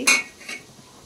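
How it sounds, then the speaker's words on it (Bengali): A cooking pan's lid is lifted off while rice-flour dhuti pitha fry inside, giving one sharp metallic clink followed by a faint softer knock and a quiet tail. "দেখি ঢাকনাটা তুলে নিচ্ছি"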